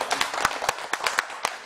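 An audience at a church gathering in Seoul gives a short round of scattered hand claps, a handful of separate sharp claps over less than two seconds.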